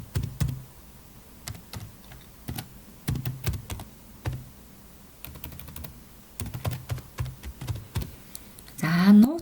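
Keys clatter in quick bursts on a computer keyboard as an email address is entered into a sign-up form, with a soft voice talking throughout and a brief whir near the end.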